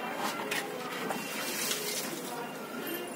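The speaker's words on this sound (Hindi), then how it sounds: "और डाल दे इसमें पानी" Water is poured into a bucket outdoors, producing a continuous rushing, splashing pour that stays even and moderately loud throughout, with voices talking faintly beneath it.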